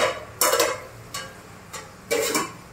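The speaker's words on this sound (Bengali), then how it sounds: "তো এখন আমি ঢাকনাটা তুলে দেব, তুলে দিয়ে দেখবো যে কীরকম কতটা হয়েছে" A metal lid lifts off a pan of chicken frying for a chicken masala fry, with a few sharp clattering knocks and scrapes against soft sizzling.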